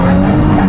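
A Nissan 370Z (Z34) spins a 360 on snow, its engine revving hard in a loud, close, continuous burst with a rough tyre-scrubbing edge.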